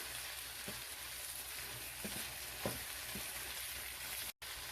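Tex Mex casserole filling sizzling and frying in a pan as it is stirred, a constant faint crackle with a few soft scrapes and taps of the utensil scattered through, briefly cutting out near the end.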